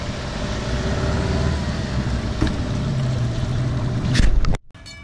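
A boat motoring slowly along a canal in the American heartland, its steady engine drone and water wash running close and even, swelling briefly near the end before cutting off abruptly.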